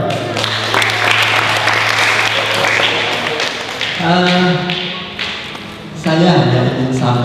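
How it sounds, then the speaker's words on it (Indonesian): A seminar audience claps on cue after the speaker asks for it, a burst of hand claps heard alongside loud voices and a booming amplified room, with some sharp taps and thuds mixed in. "Tepuk tangan dong."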